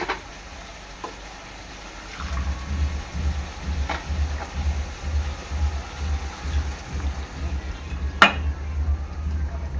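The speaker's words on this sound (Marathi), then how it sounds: "आपण याच्यात पाणी टाकणार आहोत गरम पाणी" Hot water is poured into mutton sizzling in a pot to make an Agri Koli style rassa gravy, bringing a sudden rush of bubbling and hissing that keeps going steadily, with a few sharp clicks mixed in.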